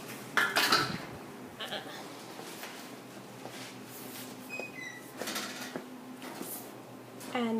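Kitchen measuring cups and a tablespoon being gathered up and put away, with scattered clinks and clatters of utensils and a cupboard or drawer sound under someone talking.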